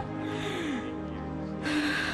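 A 45-year-old woman with asthma since childhood draws a deep breath in at a crowded revival meeting, the long gasp rising over a continuous wash of crowd noise and organ-like tones.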